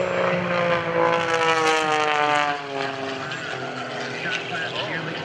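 A propeller airplane banks and turns with hard rudder at the 2012 Blue Angels Homecoming airshow, its engine a loud, droning roar whose pitch sweeps as the aircraft manoeuvres overhead.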